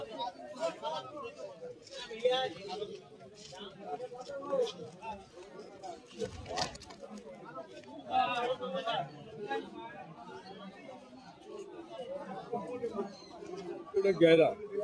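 Pigeons coo and murmur at the Galiff Street pigeon market, a soft, steady burble running under nearly constant bargaining voices and crowd chatter.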